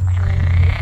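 Frogs calling at a resort pond, a loud continuous low croaking chorus with rapid pulsing throughout the short stretch, close by.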